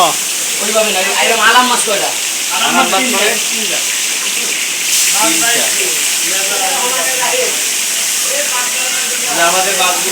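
Fresh Padma hilsa fish sizzle and hiss in hot oil at Mawa Ghat, a steady bright frying crackle running under nearby talking voices throughout.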